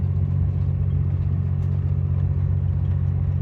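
A truck rolls slowly down a steep mountain road with failed brakes, its engine giving a steady, close low rumble with a faint mid-range drone, unchanging throughout.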